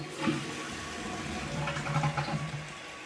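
A 15-year-old toilet flushes after its flapper has been repaired, giving a short rushing swirl of water with a gurgling drain that stays steady throughout.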